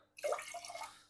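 White wine vinegar is poured into a container for making pickles, a brief, soft splashing trickle of liquid heard close up and quietly.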